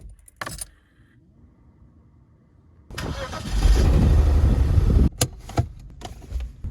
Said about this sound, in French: c'est le moment où je vais démarrer la voiture.